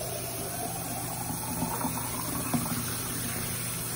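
Hot water pours steadily into a kitchen pot while spaghetti is being made, a soft continuous gushing wash with faint splashes, heard up close and fairly quiet, with no one talking.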